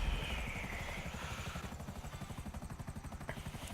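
Helicopter in the game GTA V Online, a steady rapid rotor chop with engine drone, fairly close and continuous throughout, no talking.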